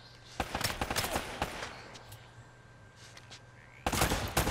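Gunfire from the video game Uncharted comes in quick bursts of rapid shots, then a quieter lull, and ends with a dense, loud volley of automatic fire.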